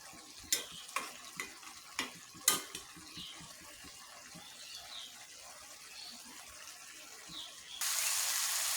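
Small river fish frying uncovered in a pan: a series of sharp spatula knocks and scrapes in the first few seconds, then a soft continuous sizzle with faint pops, ending in a louder steady hiss.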